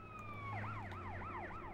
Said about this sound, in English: That ambulance is crazy.